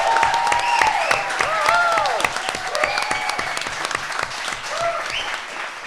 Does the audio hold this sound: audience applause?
yes